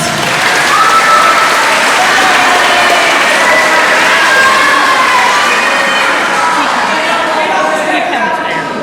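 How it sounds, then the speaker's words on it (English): A school audience at a middle school awards day applauds students, with loud sustained clapping mixed with cheers and crowd chatter that holds steady, then eases slightly near the end. "If you would like to give them their round of applause."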